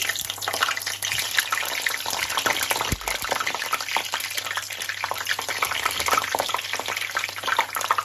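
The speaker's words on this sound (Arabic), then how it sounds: "دلوقتي حبايبي الزيت بتاعنا سخن زي ما انتم شايفين كده، هننزل فيه البتنجان بتاعنا" Eggplant pieces fry in hot oil with a dense, continuous crackling sizzle, close and loud throughout, broken by a short dip before the bubbling surges again.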